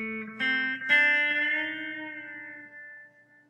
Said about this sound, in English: It originally had an echo unit, so I'll just pop that back on.